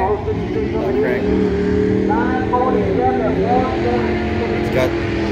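Classic 350-style car with a 5.2 engine at an outdoor car show, cranking then running with revs rising and falling, loud and near, while someone talks over it.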